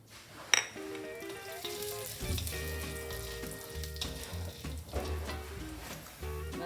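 Urad dal frying in a tablespoon of gingerly (sesame) oil for a South Indian chutney, a steady close sizzle with a sharp pop near the start and faint low clatter beneath, no talk.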